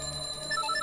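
A telephone rings indoors in a home, a short burst of trilling electronic ring tone, steady and moderately loud with no voices.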